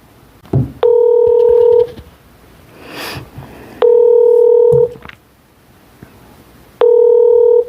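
A telephone call being placed for a phone interview: three long, loud electronic ringing tones repeat at even intervals with quiet pauses between them, with faint background noise in the gaps.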